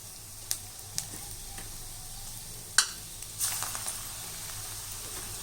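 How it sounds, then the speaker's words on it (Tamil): Chickpea flour and onion bonda batter fries in hot oil with a steady, even sizzle, broken by a few sharp clicks and splashes as pieces drop in. "இப்போ எண்ணெய் நல்லா காஞ்சிடுச்சு இப்போ நம்ம இதில் இந்த மாவை எடுத்து போண்டாவாக போடலாம்"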